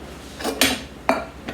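A heavy metal spoon clatters against a pot while making tortellini soup in a home kitchen, two or three sharp close knocks in quick succession and no talking.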